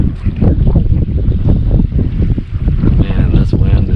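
Strong gusty wind buffets the microphone at a lake during a kayak fishing outing, producing loud, rumbling low roars that surge and dip continuously, with no clear speech.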